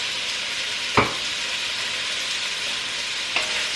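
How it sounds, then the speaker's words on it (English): Sausage rounds browning in olive oil in a hot skillet give a steady, close sizzle throughout, broken by two sharp utensil clinks against the pan. "So I'm just browning these little sausage rounds."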